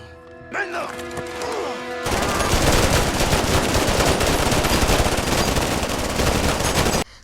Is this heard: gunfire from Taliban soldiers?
yes